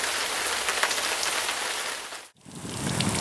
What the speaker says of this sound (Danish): Men regn, den kan I som også se, den falder altså også markant.